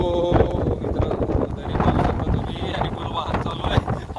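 Strong wind gusting across a monsoon hilltop fort on the Korigad trek, a steady broadband rush buffeting the microphone throughout, with people talking faintly underneath.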